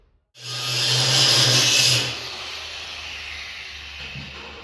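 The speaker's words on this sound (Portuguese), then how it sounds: "Vamos soldar salteado." Tack welding on a trailer axle: one loud, close hissing burst of about a second and a half, then a fainter lingering hiss.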